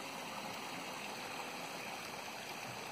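Water flowing in a drainage ditch after heavy runoff, a soft steady rushing hiss heard from a short distance, unbroken for the whole stretch with no voices.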